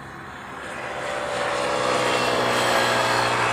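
A United Boeing 757 airliner passes at Honolulu airport as a broad, steadily swelling jet roar that grows louder and closer across the clip, with no talking.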